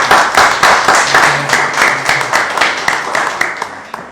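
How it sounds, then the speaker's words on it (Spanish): Studio audience on a Gente TV talk show clapping to welcome a film and television director, a close, loud burst of many hands that fades gradually, with a brief voice under it. "Un aplauso para recibirlo, por favor."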